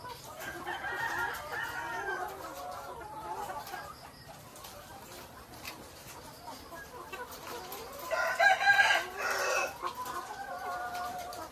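Layer hens cluck and a rooster crows from nearby on a farm, a busy flock chattering with a louder crowing burst toward the end.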